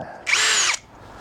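A Kincrome cordless hammer drill running on hammer function with a 10mm bit, one short high-pitched whine of about half a second, close and loud, alone.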